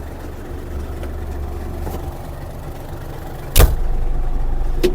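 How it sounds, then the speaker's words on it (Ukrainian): A Yanmar AF-333 mini tractor runs with its driveshaft and gearbox turning, giving a steady low mechanical hum nearby, with a sharp clunk partway through. "Ось так працює кардан, редуктор цеп з боку."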